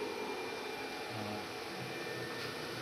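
The blower fan of a 4 kW solar inverter in a handmade 24 V solar electrical setup runs with a steady, loud broadband whoosh and hum that holds unbroken throughout.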